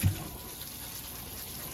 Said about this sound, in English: You really want to rinse this off.